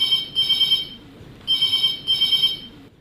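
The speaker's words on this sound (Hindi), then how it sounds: "फोन की घंटी फिर से बजने लगी" A telephone rings in two pairs of electronic trilling bursts separated by a short pause, fairly loud and close, with no voices.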